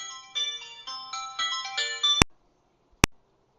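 A phone ringtone plays an incoming-call melody of bright repeating tones over about two seconds, then two sharp isolated clicks or beeps follow after a short silence, clear and fairly quiet.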